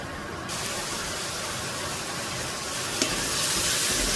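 Onions and carrots sautéing in a pan as the base for a fish stew, a continuous close hiss of sizzling that swells slightly louder toward the end, with one brief clink.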